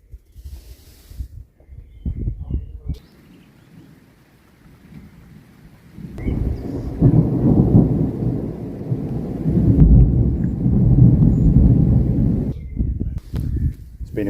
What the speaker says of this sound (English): Started raining. I don't know if you can hear the thunder on here